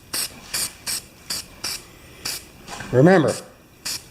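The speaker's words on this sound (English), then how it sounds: "I'm just going to throw just a spray of primer on that bald spot there" Primer from a spray can is applied in short bursts to a bare spot and bolt on a John Deere snow blower, with about ten evenly spaced hissing puffs up close and a voice briefly speaking midway.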